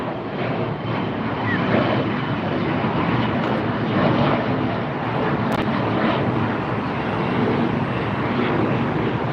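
An American Airlines regional jet at LAX gives a continuous, moderately loud engine roar that swells and eases slightly, with a couple of brief sharp clicks breaking through midway.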